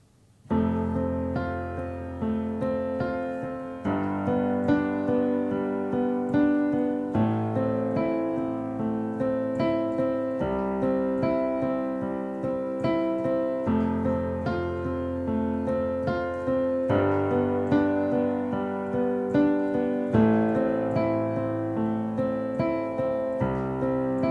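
Piano chords rolled out note by note in flowing arpeggios, a repeating four-chord cycle played evenly and sustained, close and moderately soft.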